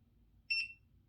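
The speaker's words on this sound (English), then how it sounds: "You can turn the beeps on or off." An EcoFlow River portable power station gives a single short electronic beep, clear and close in an otherwise quiet room.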